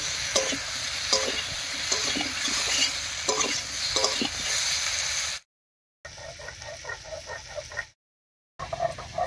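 Green beans and potatoes fry in a pan with a bright, steady sizzle and rhythmic spatula scrapes. The sound drops out twice into brief silence before the frying resumes.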